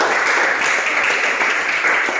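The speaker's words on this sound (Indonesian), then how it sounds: "Iya, tepuk tangan." Students in a high school classroom break into brief applause, a dense burst of many hands clapping, loud and close, lasting only a couple of seconds.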